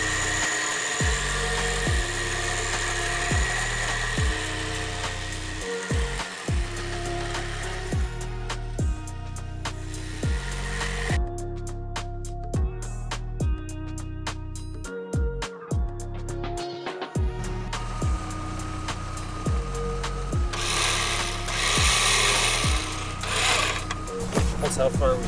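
A winch spools rope back in, giving a steady mechanical whir with repeated stepped pitch changes and brief pauses in a continuous run, near and loud, with talk at times over it.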